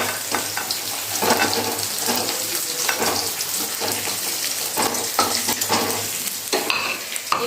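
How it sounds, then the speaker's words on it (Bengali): Paneer cubes fry in hot oil in a kadai, with a loud, continuous sizzle and occasional stirring scrapes, close and steady with no talking. "পনিরগুলো দেখো একটু ভাজা হয়ে গেছে।"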